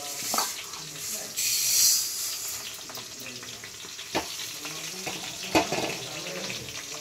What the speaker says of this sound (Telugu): వంద గ్రాముల ఆవాలని 2 నిమిషాలు వేపుకుని పక్కన పెట్టుకోవాలి.